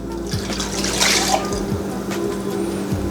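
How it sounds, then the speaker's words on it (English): Water poured from a container into a pressure canner for canning peppers, a close, steady splashing fill with bubbling and drips, no talk over it. "I'm just going to take this water and pour it in here."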